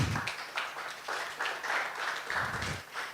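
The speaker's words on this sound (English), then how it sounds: "So I want us to give a round of applause to ourselves for staying on till the event." An audience at a live broadcast event claps in a steady round of applause, moderately distant and continuous for a few seconds.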